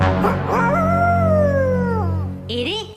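A cartoon wolf howls in a Hindi comedy cartoon. One long, loud, gliding howl rises and then falls over about two seconds against a low background hum, followed by a brief higher cry near the end.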